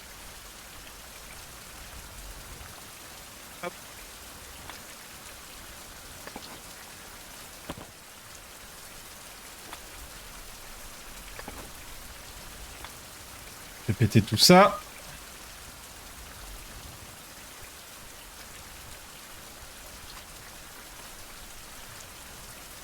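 Steady rain falls across a survival video game landscape as a constant soft hiss, with someone talking over it and a brief louder clattering burst near the middle.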